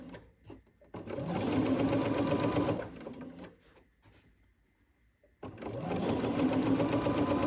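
Bernina sewing machine stitching a quilt, running in two loud sustained bursts of rapid mechanical whirring with a quieter pause and faint hum between, close up with no talk.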